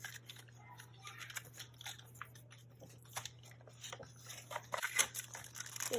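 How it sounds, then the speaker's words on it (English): Packaging of a flash drive and SD card is cut and torn open, faint snipping, crinkling and tearing sounds in short bursts over a low steady hum, quiet and close. "Okay, let's unwrap it."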